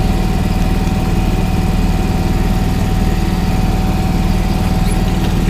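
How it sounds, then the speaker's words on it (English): A generator on a 2014 Forest River Georgetown 351 DS bunkhouse RV runs with a steady, loud engine drone and low rumble, constant and close throughout with no one talking. "We're running the generator right now."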